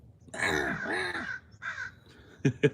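A raven caws twice in drawn-out, hoarse calls, close and fairly loud, followed by a shorter caw and a few quick clipped sounds at the end.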